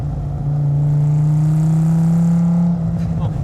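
A 568 WHP Dodge Viper SRT-10 on stock headers and high-flow cats holds a loud, steady low droning rev close by, then drops off near the end.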